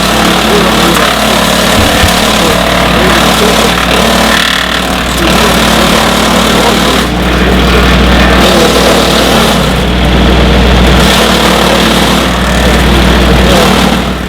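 A gravity-feed chipper shredder with a heavy flywheel runs loudly and steadily nearby, a continuous engine drone with a low rumbling hum and faint rattling of material inside.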